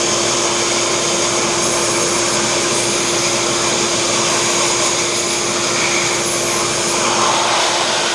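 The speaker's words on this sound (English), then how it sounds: "So now you want to blow the laser from the top like this." Air blows dust off a diode laser module in a steady, loud, unbroken rush of noise with a constant motor-like hum underneath, close and continuous throughout with no talking.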